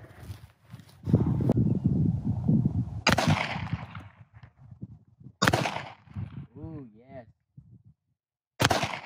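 Gunshots fired at a stacked target of bottles outdoors: three sharp, loud reports spaced a few seconds apart, each with a brief ringing tail, separated by voices talking and a short whistling tone.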